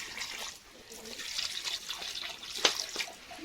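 Water poured into a pot of chicken adobo simmering with soy sauce and vinegar, a soft splashing trickle with a few drips, faint and close.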